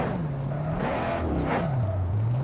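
Car engine in the Mad Max video game, a steady droning motor with a pitch that dips, rises, then falls again, close and continuous with no talking.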